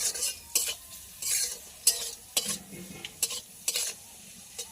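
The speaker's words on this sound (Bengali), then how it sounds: "উচ্ছেটা নাড়িয়ে নেবো নুন দিয়ে" Salted bitter gourd is stirred as it fries in a pan over a clay stove. About eight sharp, close scraping strokes of a spatula rise over a faint, steady sizzle.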